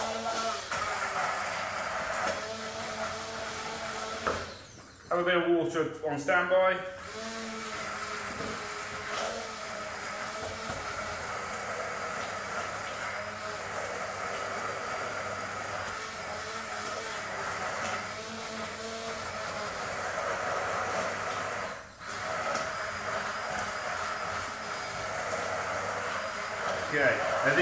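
A kitchen blender purees squash sauce in a long, loud, continuous motor whir that briefly drops out twice, with a person speaking a few words over it.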